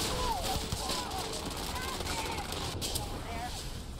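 Gunfire in sci-fi combat from Starfield, with a Varun Inflictor weapon among the guns, dense bursts of shots and explosions continuing throughout beneath a talking voice.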